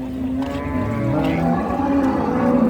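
Friesian cows low in long, drawn-out moos at a busy village cattle market in Dinajpur, the calls overlapping with a dense crowd murmur and livestock bustle filling the background.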